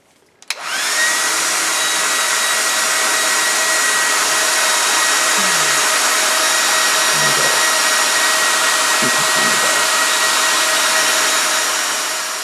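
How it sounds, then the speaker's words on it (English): A hair dryer switches on and runs at a steady, loud whine with a constant airflow hiss, continuing unbroken to the end as it dries paint during an artist's work on a painting. "Judy, get my hair dryer out of here"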